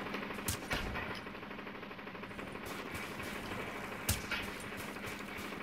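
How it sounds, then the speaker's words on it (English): Sharp, isolated gunshots crack out a few times, including a sniper shot, during a Call of Duty Black Ops 3 search-and-destroy match. They are distinct loud transients over a low, steady game background. "I'm hearing a sniper shot."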